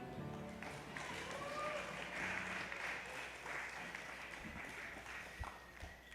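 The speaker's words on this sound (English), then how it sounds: "Could you all please give a huge round of applause for Noah?" Faint applause from an audience, a soft, continuous patter of clapping heard from a distance.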